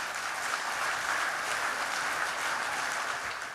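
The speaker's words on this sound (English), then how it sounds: "Rami deserves an enormous round of applause just for his inherent generosity and greatness of spirit" A room of guests at a Queen's Award celebration gives Rami a round of applause, with a dense, even wash of clapping heard from a moderate distance for several seconds.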